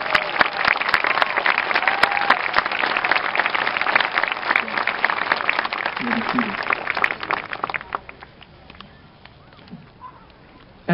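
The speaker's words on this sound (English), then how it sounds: "Please give them another round of applause." A large audience at a 2015 high school graduation ceremony at Mahar Regional School in Orange, Massachusetts claps loudly and steadily for the graduating students, the applause thinning and fading away near the end.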